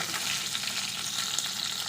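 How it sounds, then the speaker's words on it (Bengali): Fish sizzling steadily as it fries in hot oil in a home kitchen pan, a dense, even crackle with small pops, loud and close with no talking. "বাকি মাছগুলোকে ভেজে নিচ্ছি।"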